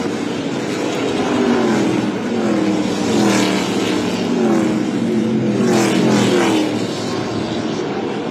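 Stock cars from the ARCA Menards Series West race at Irwindale, engines roaring loudly and swelling as pack traffic sweeps past in repeated surges, with no talking.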